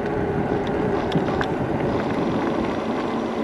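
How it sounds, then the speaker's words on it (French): Knobby fat tires of a Vakole Q20 electric fat bike rolling on a road, a steady broadband hum and rush with wind noise throughout, no talking. "Tu n'entends que le bruit des crampons sur la route."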